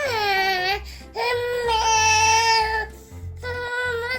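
A young child cries loudly and continuously in long wailing bursts with brief breaths between them, close and dominant throughout.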